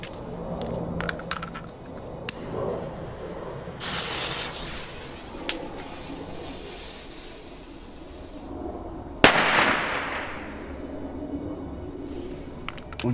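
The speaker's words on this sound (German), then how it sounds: "Schöner Knall, noch einen zweiten." A second Weco Class A Chinese firecracker bursts in the snow on New Year's. Scattered crackles and rustling build up to one loud, sharp bang near the end, followed by a decaying echo.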